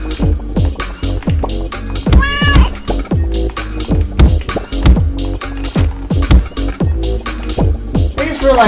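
A cat meows repeatedly in the Turnip Boy Commits Tax Evasion video game, short rising and falling calls recurring amid game sounds and background music, loud and close.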